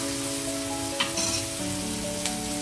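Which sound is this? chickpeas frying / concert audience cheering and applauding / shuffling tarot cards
chickpeas frying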